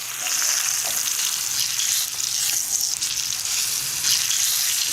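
Eggplant slices fry in a pan with a loud, dense, continuous hiss and crackle close by, with no one talking.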